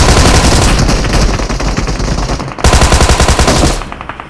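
Rapid automatic gunfire from the BGMI battle-royale video game rattles loud and close in two sustained bursts, separated by a short gap, with no talk over it.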